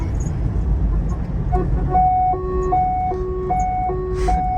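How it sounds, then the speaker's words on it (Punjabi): A two-tone ambulance siren alternates high and low notes in a steady repeating cycle over a low engine rumble. "ਐਂਬੂਲੈਂਸ ਆ ਗਈ ਐਂਬੂਲੈਂਸ ਆ ਗਈ"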